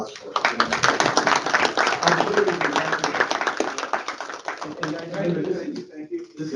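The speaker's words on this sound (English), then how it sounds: "So I think we need to give them a round of applause for it." A crowd at a public listening session gives a round of applause, brisk clapping that thins out over several seconds.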